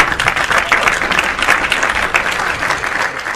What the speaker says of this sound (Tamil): நல்ல ஒரு கைத்தட்டலோடு.